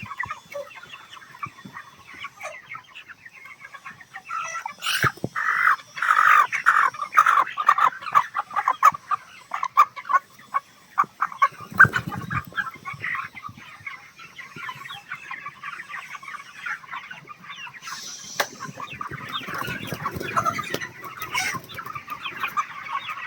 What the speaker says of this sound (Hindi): ये देखिए, ये मुर्गा है।